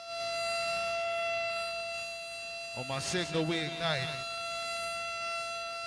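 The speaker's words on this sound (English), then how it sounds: "Sirens are sounding here in Daran." Steady siren tones hold throughout, with someone speaking briefly over them midway.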